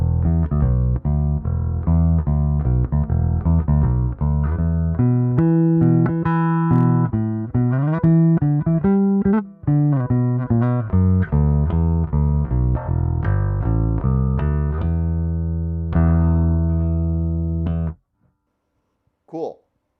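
A Jackson Concert Bass CBXNT DX IV on its neck P pickup, EQ flat, plays a riff of sustained, warm low notes with a rounded tone, continuous for about eighteen seconds before cutting to near silence.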